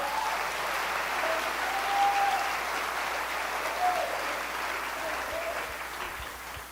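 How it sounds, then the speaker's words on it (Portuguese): Congregation applauding in a church, a steady broad wash of clapping from many hands that holds at an even level for several seconds, with no talk over it. "Aplauda, Senhor."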